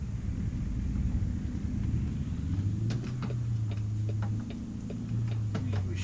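Low, steady rumble of a truck engine in American Truck Simulator, with a rising drone midway and scattered clicking ticks over it; no voices.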